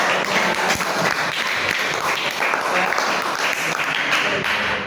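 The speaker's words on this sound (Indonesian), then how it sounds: "tepuk tangan dulu buat temannya dulu" Students in a classroom applaud a classmate after an answer, a steady, dense round of clapping that holds at even loudness throughout, with no talking over it.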